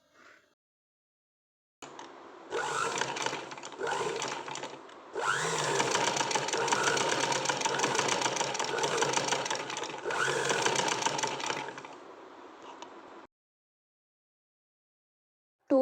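A sewing machine stitches blouse sleeves in bursts of steady mechanical whirring, several runs separated by short pauses, close and alone with no talk.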